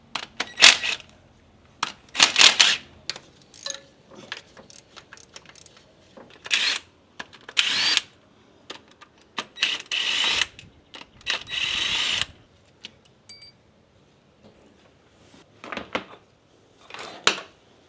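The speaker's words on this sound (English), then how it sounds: "now I'm going to pull the rocker shaft off." Power tool working the rocker shaft off the engine head of a budget 4WD, heard as close, loud bursts of whirring and clattering that start and stop with short quiet gaps between them.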